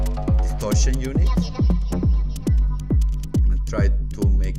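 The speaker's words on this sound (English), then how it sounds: "it's a crazy distortion unit that can apply different type of distortion on each polarity of the wave" A gritty synth in a techno track, run through the Rift distortion unit, pulses in a steady rhythm of plucky, decaying notes with buzzing harmonics, loud and upfront.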